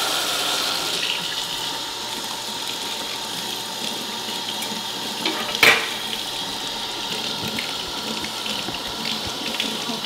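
Tap water runs steadily over roasted Hatch green chiles in a sink, a continuous close hiss and splash. A single brief clunk sounds midway.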